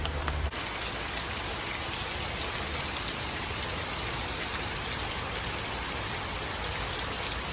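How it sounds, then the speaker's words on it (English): Heavy rain pours down steadily during a storm, a loud, dense and unbroken hiss of drops striking surfaces from start to finish, with no voices. "It is raining a bit too hard."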